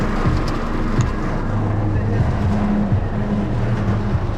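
Heavy rain mixed with hailstones pounds a car parked in the open in Qatar, a dense, loud, unbroken roar of drumming impacts with no letup.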